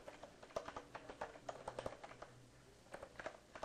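Rapid, uneven keystrokes on a computer keyboard make a run of soft clicks while a name is typed into a record form in Microsoft Dynamics AX. The typing is faint and close, with no talk.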